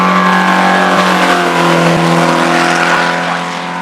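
A self-built MG Special hillclimb racer carrying an 1800cc MGB engine, styled like a 1950s single-seater, accelerates hard at a hillclimb, its loud sustained engine note rising steadily and close, with no talk.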